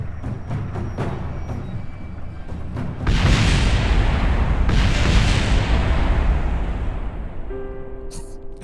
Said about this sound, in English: this Kerbal death is just explosions.